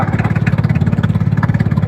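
A fishing boat's engine chugs steadily at close range on the water, a loud, rapid, even knocking pulse with no break.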